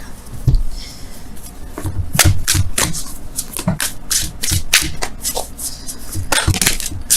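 Wisdom of the Oracle cards shuffled by hand up close, crisp riffling flutters and soft thumps repeating in uneven bursts throughout, moderately loud with no talking.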